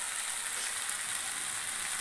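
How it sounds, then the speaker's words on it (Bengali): Diced Chandramukhi potatoes fry in a pan for a soybean and potato curry, giving a steady, close, dense sizzle with no break and no voices. "তারপর ফুটে এমনি আলুটা ভাজতে, চন্দ্রমুখী আলু, আলুটা ভাজতে ভাজতে আলুটা সিদ্ধ হয়ে গেছে।"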